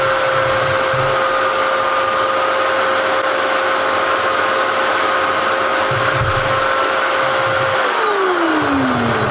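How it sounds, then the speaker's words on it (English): A compact domestic gutter vacuum roars loudly and steadily as it sucks dry compost out of a gutter, a constant close-up motor drone with its pitch dropping slightly near the end. "I've filled it up with compost, so we'll give that a go and see how easily that sucks that out."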